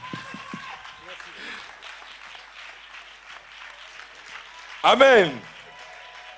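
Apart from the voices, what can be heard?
congregation applauding in church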